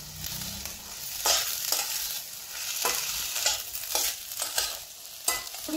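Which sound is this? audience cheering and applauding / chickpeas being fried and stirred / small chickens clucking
chickpeas being fried and stirred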